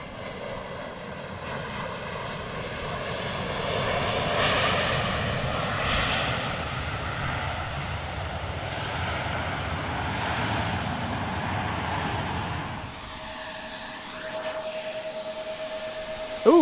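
Airliner departing runway 28 left at Portland airport, a loud sustained jet engine roar heard from the ground that swells and slowly fades over about sixteen seconds, with wind noise.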